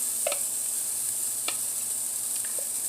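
A small potato pancake fries in a thin layer of oil in a frying pan, giving a steady, soft sizzle with a few faint pops and crackles, close and alone.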